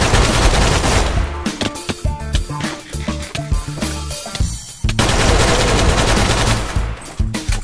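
A gun in Minecraft fires fast, loud automatic bursts. The rapid shots rattle on almost nonstop, with a brief gap in the middle before the firing resumes.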